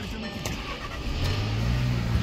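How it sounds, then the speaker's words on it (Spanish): A car with 140,000 miles at an online auto auction starts on the key. There is a short cranking clatter, then the engine catches and settles into a steady, close idle hum. "Ya prende al llavazo."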